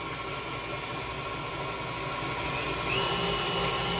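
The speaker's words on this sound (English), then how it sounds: "you can turn it up to whatever level you need" A KitchenAid Classic stand mixer runs at high speed with a steady, loud motor whine and whir that rises slightly in pitch and volume partway through. No voices are heard.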